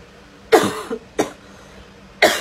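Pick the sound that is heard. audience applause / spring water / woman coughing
woman coughing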